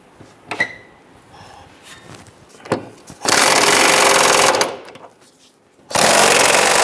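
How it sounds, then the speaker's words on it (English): A power tool tightens rear cradle bolts on a 2005–2010 Chrysler 300, sounding as two loud, sustained mechanical bursts after a few light clicks and knocks, each run lasting over a second. "Let's go ahead and tighten down our bolts here and bring that cradle up"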